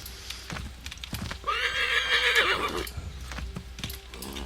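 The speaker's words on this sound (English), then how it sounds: "What was that about, horse?" A horse in the video game Assassin's Creed 3 gives one loud, close whinny lasting about a second, with hoof clip-clops and light clatter before and after it.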